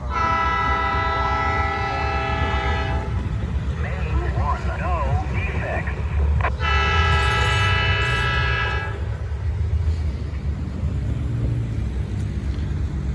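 A train rumbles past close by, its horn blaring in two long blasts while heavy wheels and cars roll steadily underneath.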